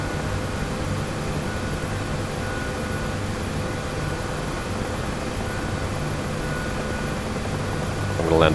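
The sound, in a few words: aircraft taxiing in the video game DCS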